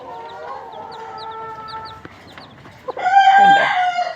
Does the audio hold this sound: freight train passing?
no